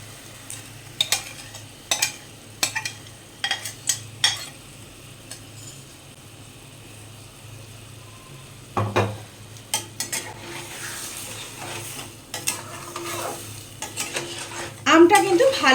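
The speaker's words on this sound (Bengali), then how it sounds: "ফোড়ন থেকে যখন একটা সুন্দর গন্ধ আসবে দিয়ে দেব আম আর চিনির মাখানোটা" Raw green mango and sugar go into hot oil tempered with five-spice for a sweet-sour pickle, with a metal spoon clattering sharply against the pan in repeated strokes and a soft sizzle building toward the end.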